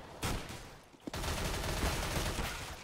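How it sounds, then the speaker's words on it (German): Rapid automatic gunfire from a P90 in a Counter-Strike tournament match, sustained sprays of shots with a brief lull near the middle, loud and dense with no speech over it. "Aber LCFM mit der P90. Da hält er einfach rein, da hält er einfach rein"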